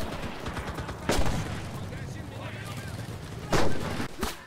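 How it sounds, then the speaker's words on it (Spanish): Artillery fire in the World War II shooter Enlisted during an assault on a monastery near Moscow: heavy booming blasts land at intervals, some near and loud, over a constant rumble of distant gunfire. "Están metiéndonos artillería."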